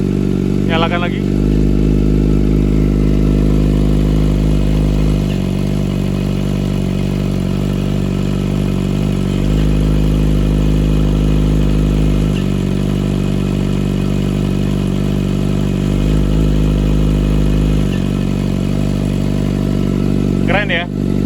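Kawasaki ZX25R motorcycle with a loud aftermarket exhaust, engine droning steadily close up with repeated surges in pitch as the throttle is blipped, voices heard under it.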